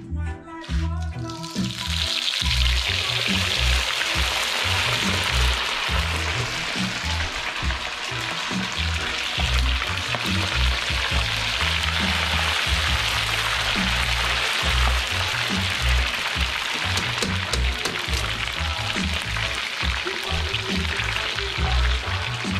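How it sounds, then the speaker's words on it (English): Moi, a Hawaiian fish, cooks slowly in hot oil over low heat, giving off a steady, loud, close frying hiss and crackle that runs without a break, with low bubbling and clatter underneath. "Secret to this is low heat. You don't want this thing exploding. You want to cook it slow in the hot oil."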